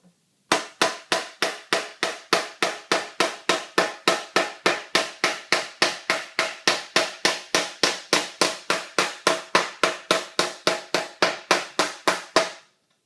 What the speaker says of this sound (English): start hitting in that area with the pointed side